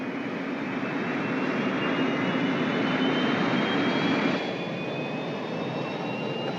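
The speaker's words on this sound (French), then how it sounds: "Est-ce qu'ils ont décollé? C'est ce qu'ils sont en train de faire." Sci-fi spacecraft taking off, a steady loud roar like a jet engine with a rising high whine, sustained and then easing slightly toward the end, with no voices.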